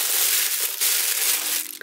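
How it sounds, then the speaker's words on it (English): Crisp crinkling and crumpling of tissue paper being unwrapped from a Studio Thornrose package, a close, continuous rustle with a few sharper crackles toward the end. "Got the lovely Studio Thornrose tissue paper."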